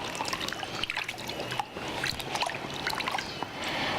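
Gentle splashing and trickling as something is lowered into water, close by, with soft irregular sloshes and no talking.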